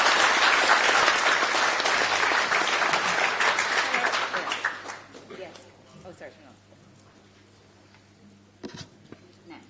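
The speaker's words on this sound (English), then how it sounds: "please give a huge round of applause and welcome back Europe Correspondent for Euronews" A conference audience bursts into loud, sustained applause to welcome back a Euronews Europe correspondent at a panel on Europe's place in the world order; the clapping fades after about five seconds to quiet room tone with a few stray claps.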